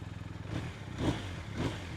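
A 2021 BMW R1250R motorcycle engine idles close by, a steady low throbbing rumble with two brief swells in revs.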